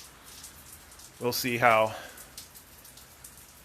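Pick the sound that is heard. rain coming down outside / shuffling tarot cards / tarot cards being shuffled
rain coming down outside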